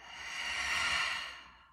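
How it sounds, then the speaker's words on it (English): A single slow, deep breath exhaled out through the mouth during a calming meditation, soft and close, swelling and then fading away. "Let's take 3 deep purging breaths."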